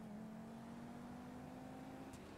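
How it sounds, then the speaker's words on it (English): A Ferrari 458 engine in a roleplay driving game holds a steady, even drone that neither rises nor fades, fairly loud and unbroken with no talk over it. "I would just drive away in this Ferrari."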